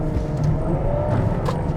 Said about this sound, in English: you just hear the engine and really feels like it's slowing you up as it punches into the gear